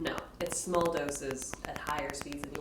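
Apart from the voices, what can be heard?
No everyday noises stand out.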